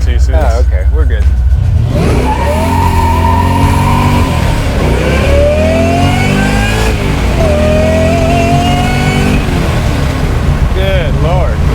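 A supercharged 1970 Chevrolet Camaro hot rod accelerates hard through the gears, its engine loud and rising in pitch with each gear, heard from inside the car while occupants talk.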